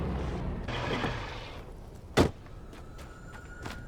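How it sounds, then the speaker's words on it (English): A door in the game Alan Wake Remastered slides open with a rumbling scrape, then slams shut with one sharp, loud thud, followed by a fainter knock. "Like how you can still hear a door opening and closing, even though there's no door."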